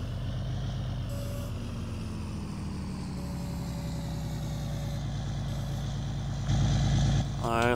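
Truck engine idling in Farming Simulator 19, a steady low rumbling drone with a continuous mid-range throb that holds throughout, swelling slightly louder near the end.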